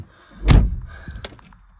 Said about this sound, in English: Ignition on, close the door.